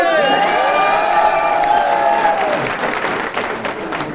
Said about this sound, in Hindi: आपके लिए 2 लाइन सुनाता हूं, बजाओ ताली